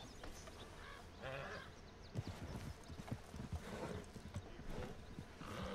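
Horse hooves clip-clop at a steady walking pace in the open-world Western game Red Dead Redemption 2, soft rhythmic thuds over a quiet ambient background with no talk.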